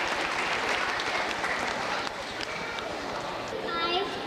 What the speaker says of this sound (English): Let's give her a great big round of applause.